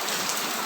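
Steady rain falls on a courtyard as a continuous soft, hissing patter, fairly faint, with no voices over it.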